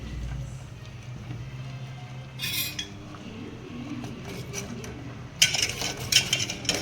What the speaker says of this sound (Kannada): ಕೋಕೋನಟ್ ಹಾಕಿದ್ಮೇಲೆ ಆಯಿಲ್ ಹಾಕಿದ್ಮೇಲೆ ಚೆನ್ನಾಗಿ ಮಿಕ್ಸ್ ಮಾಡಬೇಕು